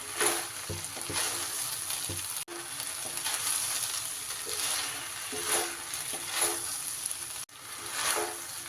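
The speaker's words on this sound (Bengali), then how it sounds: "এইবার হালকা হাতে সব কিছু সুন্দর করে মিশিয়ে নিতে হবে।" Ingredients stirred with ghee in a hot pan, giving a continuous soft sizzle and hiss with periodic scraping strokes of a spoon, moderately quiet and close, without voices.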